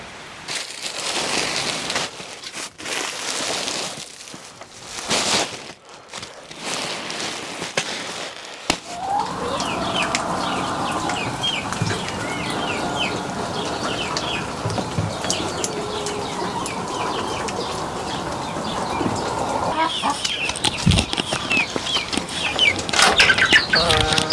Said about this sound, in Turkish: Epeyce bir civciv çıkartmışlar burada.